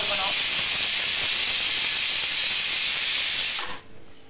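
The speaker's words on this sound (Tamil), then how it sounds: "இது விசில் சவுண்டு வர்றது. வேறு குக்கரில் வச்சுருக்கேன்," Pressure cooker whistle on a stovetop during biryani cooking, a loud sustained steamy hiss that holds steady for several seconds and then cuts off abruptly.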